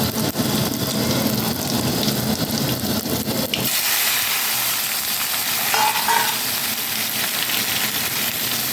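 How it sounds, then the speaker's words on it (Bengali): Spices and dried and green chillies frying in hot oil in a wok, a steady loud sizzle that shifts to a brighter, hissing crackle partway through, with no talk. "কড়াইতে তেল দিয়ে আমি 5 ফোড়ন আর জিরে ফোড়ন দিয়ে দিলাম। তারপর আমি দিয়ে শুকনো লঙ্কা আর কাঁচা লঙ্কা এগুলো দিয়ে দিলাম।"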